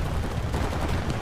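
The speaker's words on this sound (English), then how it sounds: "he keeps on flying for a good long moment here, blasting away with the chain gun" Sustained burst of chain-gun fire from an Apache helicopter in War Thunder, a dense continuous rattle of rapid shots that runs the whole moment at a steady, fairly loud level with no pauses.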